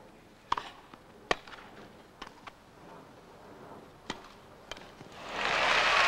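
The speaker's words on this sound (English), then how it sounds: "Two great backhands from Martinez gives her break points" At the 1994 Wimbledon women's semi-final between Conchita Martinez and Lori McNeill, sharp racket-on-ball strikes crack back and forth in a rally over a quiet court, then a crowd bursts into swelling applause.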